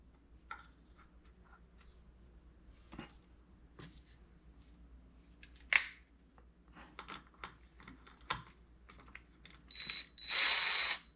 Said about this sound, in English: And so I'm going to put a screw in here.